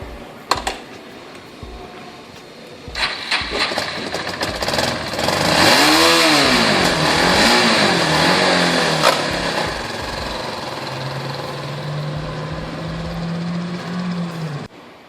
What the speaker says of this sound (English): Now it's time for me to take this bike for a test ride.